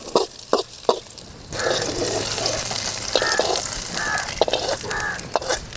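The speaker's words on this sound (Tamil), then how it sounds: "நல்ல வெங்காயம் வதங்கி போச்சு." Onions sauté in a pan with a continuous soft sizzle, broken by several sharp clinks and scrapes of a stirring utensil against the pan, heard close up.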